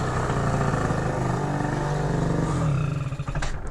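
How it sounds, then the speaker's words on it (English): A Yamaha Zuma 70cc scooter with a rebuilt Polini engine runs steadily, then bogs and sputters as it runs out of gas, its drone breaking up and faltering in the final second. "she started bogging. She's out of gas."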